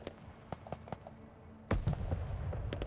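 Artillery fire in the real-time strategy game Broken Arrow: scattered distant thumps, then a sudden loud blast followed by a dense rumble of overlapping impacts.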